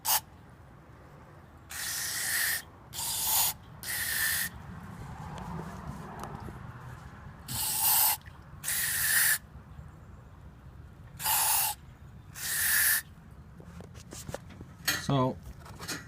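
Aerosol cleaner sprayed into the fuel-injected throttle body of a 1987 Grand Marquis in several short hissing bursts of about a second each, with quiet gaps between them, fairly close and with no talk.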